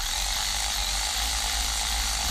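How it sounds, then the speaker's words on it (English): Air ratchet running on a coolant hose clamp: a continuous, close pneumatic whir and buzz with a rattling mechanical edge, steady for a couple of seconds with no voices. "I don't want to do any more than that with the air ratchet because I could easily over torque it."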